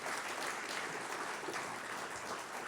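Sustained applause from an audience at the Legends & Legacies awards event for an honoree, a dense, even wash of clapping that carries steadily throughout with no voices on top.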